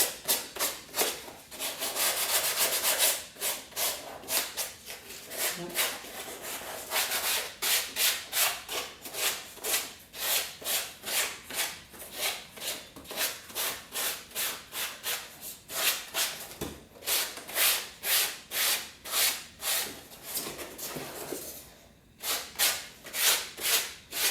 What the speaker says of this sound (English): I think I've actually nearly sanded the entirety of this thigh already.